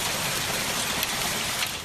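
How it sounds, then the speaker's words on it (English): Torrential hail pounding down during a powerful storm in Plano, Texas, a dense, steady roar of impacts that fills the scene without a break, loud and continuous, with no voices heard. "The powerful system produced a torrential hailstorm in Plano."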